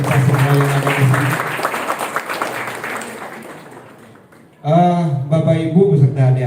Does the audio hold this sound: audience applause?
yes